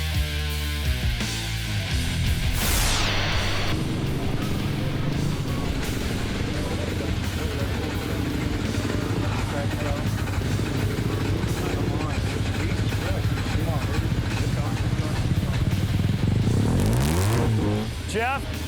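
Mazda RX7 and Honda Civic engines rev loudly in a drag race, a continuous roar with rising and falling pitch sweeps and a sharp climb near the start, a crowd and voices audible underneath.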